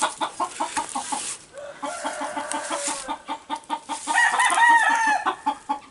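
Chickens cluck in rapid, repeated bursts inside a round wood pole barn shed, close and fairly loud, while a rooster lets out a strained crow toward the end over the ongoing clucking.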